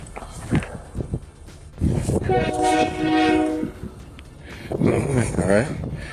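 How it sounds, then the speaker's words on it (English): A train sounds its horn in a sustained tonal blast amid rumbling rail noise, with people talking nearby before and after it. "sounds like the train's coming"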